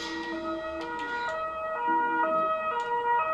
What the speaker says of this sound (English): You shut up, ambulance.